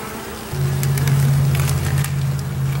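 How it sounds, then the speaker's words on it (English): A steady, dense buzzing of many honey bees in a crowded top-bar hive close by, a continuous droning hum with no talking. "this hive is just busting with bees"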